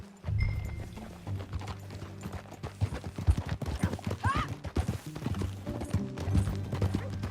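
Horse hooves clip-clop in Red Dead Redemption 2 as riders set off together, a close, uneven run of hoofbeats with a brief whinny partway through over a low rumble.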